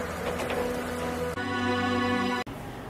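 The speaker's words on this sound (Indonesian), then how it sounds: "Lalu turunlah hujan yang lebat." Heavy rain pours down in a dense, steady hiss, with a tonal musical passage rising over it in the middle.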